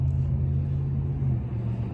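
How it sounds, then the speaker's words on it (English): Cars pass on a Los Angeles street, a steady low engine rumble rolling by close and continuous, with no voices over it. "I'm waiting for traffic to go by"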